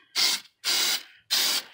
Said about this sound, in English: Quick test spray.